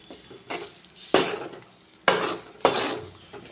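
A spoon stirs mutton curry in a pot, giving several distinct scraping clatters of metal on metal, each followed by a softer rattle. The sound is close and moderately loud, and no one speaks.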